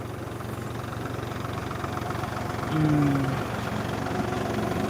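A tractor engine powers a crop sprayer in a rice field, a steady close mechanical drone with a brief louder swell near the middle and no talking.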